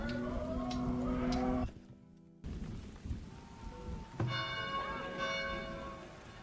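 An alarm bell rings out over a village during a raid in the strategy game Farthest Frontier, tolling amid cattle mooing and steady rain, with layered game sound and a brief dropout partway through.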